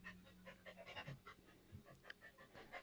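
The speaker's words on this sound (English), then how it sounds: "Your dog is having a time over there." A cattle dog pants in quick, rhythmic breaths, a steady run of short huffs heard faintly and close by with no talk over it.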